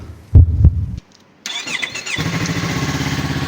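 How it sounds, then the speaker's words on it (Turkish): A Yamaha R25 motorcycle that has sat in a garage for two months starts up: a couple of loud starter thumps, a brief pause, then the engine catches and settles into a steady, close idle. "İki aydan sonra tekrar çalıştı hiç zorlanmadan."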